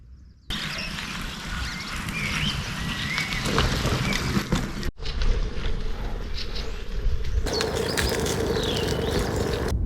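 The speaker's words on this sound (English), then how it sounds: "I love listening to birds talking or singing." Birds sing and pigeons or doves coo outdoors at Three Crowns in the Pieniny mountains of Poland, chirps scattered over a steady wind-like rush that fills the whole stretch, with an abrupt cut midway.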